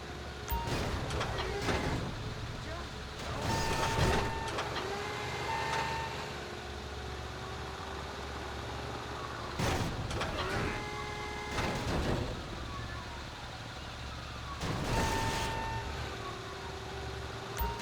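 A container handler vehicle in Grand Theft Auto V sounds repeated reversing beeps over a steady engine rumble, the beeps recurring in spaced groups through the clip, with occasional mechanical clanks and no talk.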